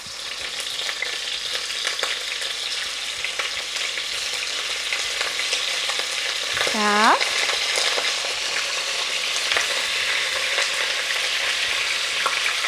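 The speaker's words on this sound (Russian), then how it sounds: "сейчас будет шипеть" Chicken pieces sizzle and fry in a well-heated pan for a Georgian chikmiruli dish, a steady hiss that stays loud throughout, with one brief spoken word partway through.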